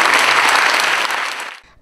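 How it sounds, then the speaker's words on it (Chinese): A crowd's applause at a crosstalk comedy show by a touring troupe fills the air densely and evenly, then thins and fades away near the end. "大家把这个掌声给这三分之一的演出费。"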